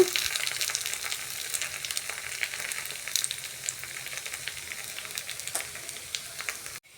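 Gunta ponganalu batter fries in a paniyaram pan, a continuous close crackling sizzle with scattered sharp pops and a brief tap near the end; no talking.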